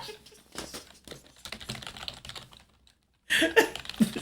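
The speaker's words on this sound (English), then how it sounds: "It's the sound of the keyboard." Clicks of computer keyboard typing come in quick, uneven bursts, fairly close and moderately loud, then a pause and a louder flurry of keystrokes.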